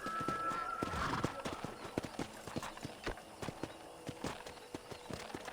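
Rhythmic hoofbeats clip-clop steadily as a horse moves along a ranch in Red Dead Redemption, with a brief whinny early on over a faint background ambience.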